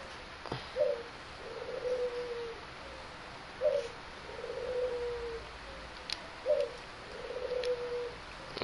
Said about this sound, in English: If you hear things in the background, they're doves.